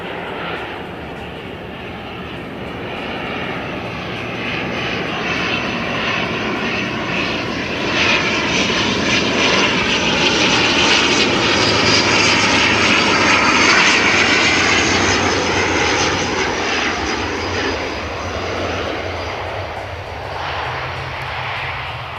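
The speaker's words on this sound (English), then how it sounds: "Another awesome landing." A fixed-wing airliner lands at an airport, its engine roar loud and sustained for over twenty seconds, swelling at mid-clip as it passes and slowly fading.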